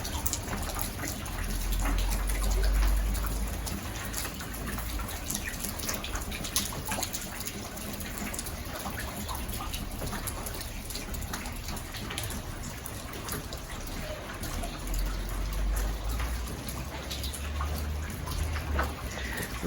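Collected rainwater splashes and gushes steadily as it is poured out of containers in a garden on a snowy day, continuous and close with no talking.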